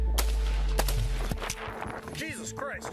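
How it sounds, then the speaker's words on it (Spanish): Several sharp, loud gunshots crack in an alley during a police shootout with suspects, spaced irregularly and echoing off the walls, with a voice speaking over the later part. "Los oficiales respondieron al fuego. Los disparos resonaron en el callejón."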